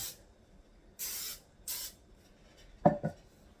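Two short bursts of nonstick cooking spray coat a bundt cake pan, close and fairly loud, followed by a couple of light clanks of the can or pan.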